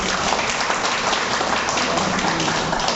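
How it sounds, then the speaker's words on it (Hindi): An audience claps vigorously at a yoga lecture in Simga, Chhattisgarh: dense, steady applause from many hands fills the whole stretch at an even level, with no speech over it. "बजाओ एक बार अच्छी तरह ताली"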